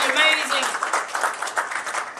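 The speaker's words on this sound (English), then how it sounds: "Starkey, give it an applause to Starkey" Wedding guests applaud in a room, a brief burst of mixed clapping under and around a voice that keeps talking.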